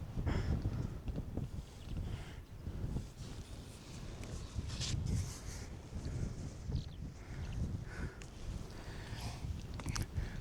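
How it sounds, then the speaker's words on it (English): Steady wind buffets the microphone on the steep slopes of Pendle Hill, a continuous low rumble with gusts swelling and easing throughout, loud and close. "the wind is picking up now"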